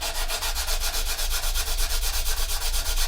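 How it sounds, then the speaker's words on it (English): A medium sanding stick rubs rhythmically back and forth over a seam on a 1/32 Revell He111 plastic model kit, close and steady, about a dozen strokes with no voices. "if you just grab yourself like a medium sanding stick, something else like that, you can literally place it down and just take the high edges off"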